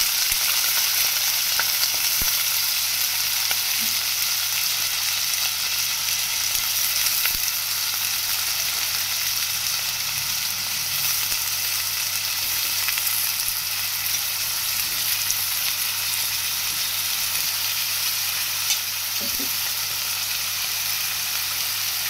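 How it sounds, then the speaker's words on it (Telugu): Potatoes and onions fry together in hot oil on a stovetop, making a steady, even sizzle and hiss that runs unbroken at moderate volume, with no one talking. "ఒక పక్క స్టవ్ పెట్టుకొని మనం ఆయిల్ వేసి వేడి చేసుకున్నాం. దుంపలు ఉల్లిపాయలు రెండు కలిపి ఒకేసారి వేసేస్తున్నాం."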